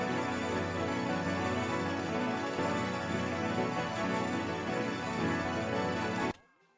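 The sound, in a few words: piano keys without effects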